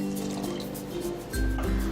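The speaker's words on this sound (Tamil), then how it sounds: "அப்புறம் தேவையான அளவு தண்ணி." Water poured into a mixer jar holding ground coconut chutney with red chilli, a short trickling fill that swells louder in the second half, with no talk over it.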